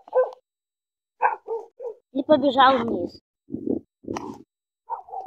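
A husky-type dog barks and yelps in short bursts, several quick barks and one longer whining howl, with someone speaking briefly between them.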